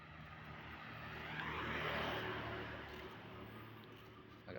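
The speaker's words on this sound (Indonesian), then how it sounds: "Sepi begini, suaranya masih kedengeran suara itu pesawat kan dari situ bandaranya" A Citilink airliner departing from a nearby airport at six in the morning, a faint, distant roar that swells to a peak and then fades in a quiet setting.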